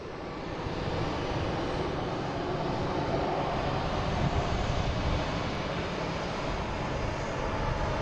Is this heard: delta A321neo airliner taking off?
yes